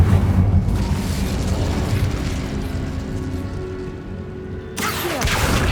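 Incendio fire spell in Hogwarts Legacy erupting as a loud roaring blast of flame that sustains for several seconds, then cuts to a fresh burst near the end.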